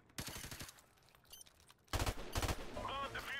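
Bursts of rapid gunfire in a tactical shooter video game, a short volley early and a louder sustained burst later, with scattered game sound effects between them.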